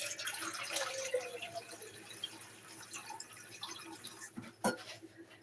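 Warm water running from a kitchen tap, a steady moderate splashing stream that continues without break, with a faint clatter near the end and no talk over it.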